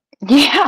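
One sudden, close, loud human sneeze with a quick sharp onset and a short voiced tail.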